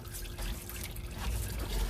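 Hot engine oil draining from a 2002 Volkswagen Golf VR6 2.8L during an oil change, a steady splashing rush of liquid pouring into a pan, close and continuous.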